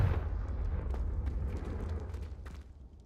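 A Confringo fire spell blast from the Hogwarts Legacy video game: a loud, sustained fiery roar with deep rumbling low end and crackling bursts, holding steady for about three seconds before easing slightly.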